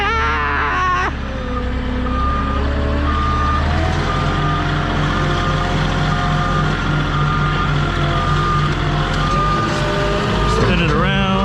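A forklift maneuvers with its reversing alarm beeping in a regular repeating pattern over a steady engine hum, while someone talks over the machine noise.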